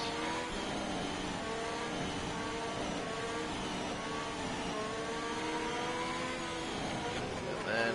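Race car engines in a racing video game, a continuous loud mid-pitched drone with wavering revs as the car warms its tyres on track at Austria, steady throughout with a slight swell near the end.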